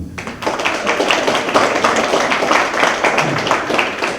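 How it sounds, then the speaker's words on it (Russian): Dense, steady applause from an audience honouring the celebrated guest at Zhaugashty Toktamysov's jubilee celebration, sustained evenly for several seconds with no voices breaking through. "Аплодируем ему."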